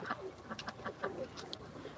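A cross-breed pigeon coos in a series of soft, low pulses close by, repeated roughly every quarter second across two seconds, over faint background noise with no talking.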